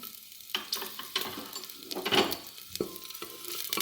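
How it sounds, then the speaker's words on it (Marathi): Green chili, ginger and garlic sizzle in a spoonful of ghee in a pan, with stirring scrapes and bursts of crackle coming and going over a few seconds, close up and with no voices. "आणि तुपामध्ये थोडंसं परतून घ्यायचं."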